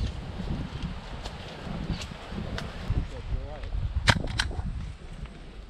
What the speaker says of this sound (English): And I tested just how blended in I really was by shooting Aiden.